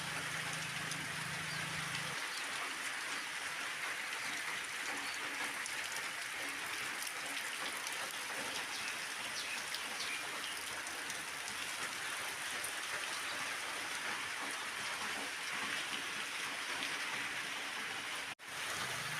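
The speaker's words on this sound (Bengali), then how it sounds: "দেখুন বন্ধুরা কীরকম বৃষ্টি হচ্ছে," Heavy rain pours onto a tin roof, a dense continuous hiss of countless drops that holds steady for the whole stretch without a break.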